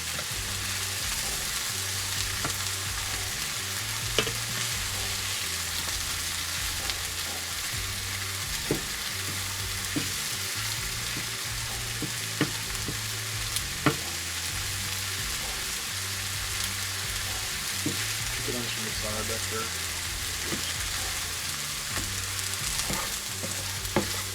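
Sausage browns in a frying pan with a steady, close sizzle and occasional scraping stirs, no talking.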